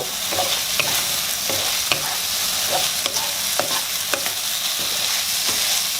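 Crab meat and bird's eye chilies stir-fry in a hot pan, a loud continuous sizzle punctuated by frequent scraping clicks of the spatula tossing the mixture, close up with no speech.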